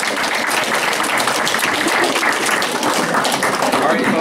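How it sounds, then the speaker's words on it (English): An audience at a town meeting in Plattsburgh gives a steady round of applause, a dense crackling of many hands clapping in a room for several seconds. "Can we give them a round of applause?"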